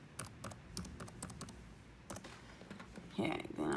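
Keystrokes on a computer keyboard during registration-page entry, a run of quick, irregular clicks in short bursts, fairly close, with a louder shuffle near the end.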